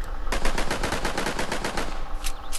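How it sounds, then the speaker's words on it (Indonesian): Rapid automatic gunfire from a dinosaur-egg-hunting video game fires as a loud, close burst of evenly spaced shots for about two seconds, followed by a couple of isolated shots, with no talking. "Kita tembak, kita ratain semuanya."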